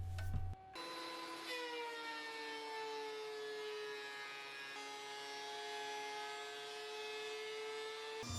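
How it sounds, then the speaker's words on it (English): A power planer runs through rough-cut black walnut in a sustained, steady whine with a high tonal hum that holds for several seconds after a brief start, loud and close with no talk. "I started by milling down a piece of rough cut black walnut with the planer"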